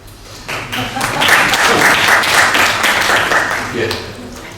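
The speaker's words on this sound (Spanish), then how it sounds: "Quien esté de acuerdo, que aplauda." Audience clapping at a round-table discussion on entrepreneurship, starting moderate then swelling into a full, sustained wash of many hands before easing slightly toward the end.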